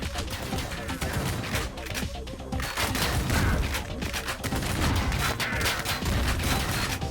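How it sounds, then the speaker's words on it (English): Enemy gunfire in the first-person shooter Ion Fury, a loud, dense barrage of rapid shots and booms filling the whole stretch without pause, with some talk underneath. "Keep shooting at me from everywhere."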